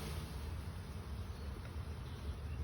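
A steady, dense buzzing of many honeybees close by, continuous and fairly agitated, with a low hum underneath and no talking.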